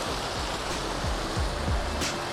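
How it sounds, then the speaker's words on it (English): Small waterfall near a campground in Moab, a steady broadband rush of falling water, close and continuous with no voices. "I wanted to come down and check out this little bit of a waterfall"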